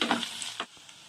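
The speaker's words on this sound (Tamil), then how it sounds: "அந்த வெங்காயத்தோட கலர் கொஞ்சமாக லைட்டாக மாறி வர வரைக்கும் நம்ம நல்லா வதக்கி விட்டுக்கலாம்" Onions sautéing in a pan for white kurma, cooked only until lightly colored; a short burst of close sizzling and stirring fades out after about half a second.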